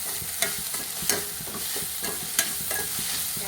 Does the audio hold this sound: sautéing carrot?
yes